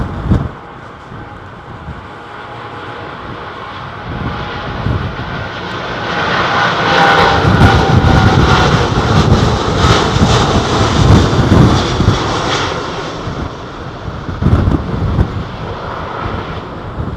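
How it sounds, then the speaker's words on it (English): Rolls-Royce Trent-powered jet airliner engines roaring at London Heathrow, a loud, sustained broadband rumble that swells and holds as the aircraft passes close by, with wind buffeting the microphone. "It's another Rolls-Royce powered jet"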